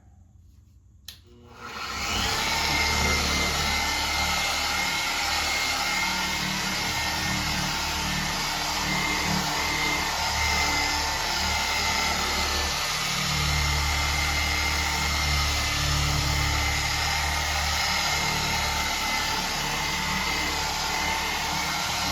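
A car polisher switches on with a brief click and spins up on a vehicle's passenger quarter panel during a clay bar and polish job, then holds a loud, steady whirring hum close by for the rest of the stretch.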